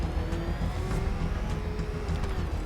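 Batmobile engine from the video game Batman: Arkham Knight, a steady close whirring drone with no talk over it.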